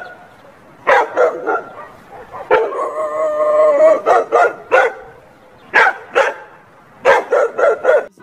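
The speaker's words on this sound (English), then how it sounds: "D for dog." A dog barks in short, sharp bursts and breaks into a sustained howl in the middle, the barks coming in clustered groups, close and loud.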